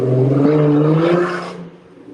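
A car roars past at close range on a city street during an outdoor camp gathering in Chicago, its engine note rising loud and steady, then dropping away as it passes.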